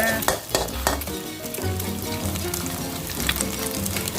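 Isan sausage and scrambled eggs stir-fried in a pan, loud continuous sizzling broken by sharp utensil knocks and scrapes against the pan in the first second and again near the end.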